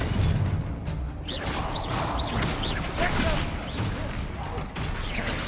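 Confringo fire spell blasting at spiders in the Hogwarts Legacy video game, with whooshing bursts and crackling impacts layered over dense battle effects and a busy game soundscape.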